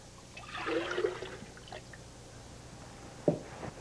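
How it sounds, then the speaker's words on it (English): Liquid ceramic glaze sloshes and trickles as it is poured into a pitcher, a soft wet pour followed by a few drips and a brief clunk. "Now, I'm going to pour glaze inside the pitcher first."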